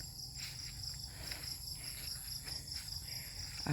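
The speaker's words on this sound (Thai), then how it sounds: "เสียงจิ้งหรีดร้องละจิ้งหรีดปะ" A steady chorus of crickets chirping continuously at dusk in the background, even and moderately faint, with a little low ambient rumble.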